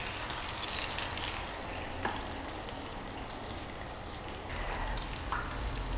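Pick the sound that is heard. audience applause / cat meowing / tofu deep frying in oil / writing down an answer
tofu deep frying in oil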